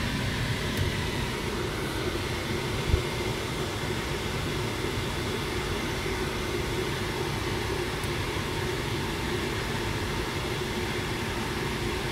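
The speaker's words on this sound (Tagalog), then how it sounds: "Naka-full yung blower nito, ano. Kaya medyo maingay lang siya." A car's air conditioner blower runs at full speed, a steady loud broadband whoosh of rushing air with no variation throughout.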